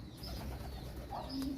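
A pigeon coos softly in a couple of short, low calls against a quiet background, with faint chirps from other birds nearby.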